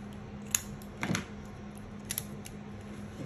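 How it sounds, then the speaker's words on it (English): Cutting a small piece of an ARToptions Rouge kit in half, a few faint, close snips and clicks scattered over a quiet background. "Cut it in half."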